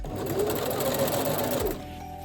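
A sewing machine runs steadily while stitching lingerie fabric, backstitching at the start of the seam. Its motor hums continuously up close for about a second and a half, then cuts off abruptly.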